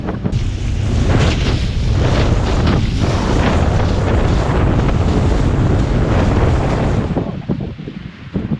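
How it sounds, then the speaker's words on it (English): Strong wind roars across the microphone over choppy Gulf water near a shoreline, with waves slapping a small fishing boat; the loud, dense buffeting runs steadily for about seven seconds before easing slightly at the end. "The wind is so strong,"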